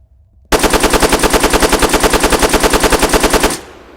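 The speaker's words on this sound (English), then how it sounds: "This is actually a submachine gun, I believe. So I expect it to be quite a high rate of fire." A submachine gun firing 5.45x39 rounds in Arma 3 Apex lets off one loud, sustained burst of about three seconds with a very fast, even rate of fire, then cuts off abruptly into a short fading tail.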